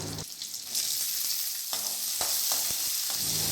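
Steady, loud sizzling of curry leaves and crushed garlic frying in hot oil, with a few sharp crackles and pops breaking through the continuous hiss.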